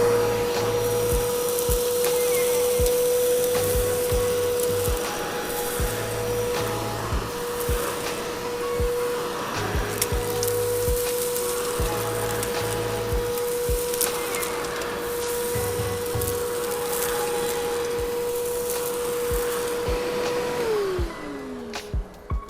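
Wessex wet and dry vacuum cleaner running continuously with a steady whine, loose dirt, grime and grit rattling and clattering up the hose, before the motor winds down at the end.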